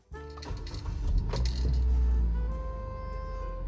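Car engine cranking and catching after an oil change, with a jingle of keys at the ignition first, then a swelling rumble that settles into a steady idle, close and loud.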